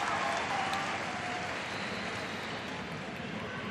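A Muay Thai crowd at the Rajadamnern World Series bout between Buakaw Banchamek and Yasuhiro Kido claps in a continuous, hissing wash of applause that fades slightly, with distant voices blended in.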